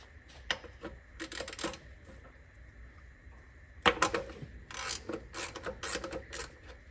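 Ratchet working on a corroded transmission drain plug of a Land Rover Discovery, giving bursts of quick metallic clicking and clattering at close range, with a louder clunk midway, no talking.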